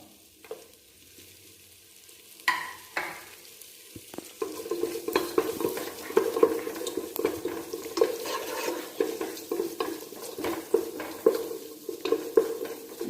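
Onions frying with garlic and ginger in a pan for chicken mandi rice: a quiet start with a few clatters, then a steady sizzle from about four seconds on, broken by regular scraping stir clicks.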